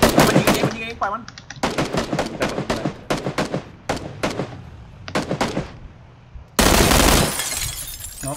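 Gunfire in a squad-based shooter video game crackles in rapid bursts of sharp shots separated by short gaps, then one loud sustained blast near the end. A player speaks briefly between shots.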